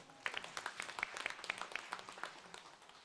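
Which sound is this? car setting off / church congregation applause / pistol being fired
church congregation applause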